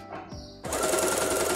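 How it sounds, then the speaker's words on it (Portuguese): A domestic straight-stitch sewing machine starts up after a few quiet handling noises and runs steadily at close range, stitching three layers of fabric for a women's tank top with a fast, even mechanical whir. "Pego as minhas três partes aqui de tecido, ó, tá bem certinho, e vou costurar."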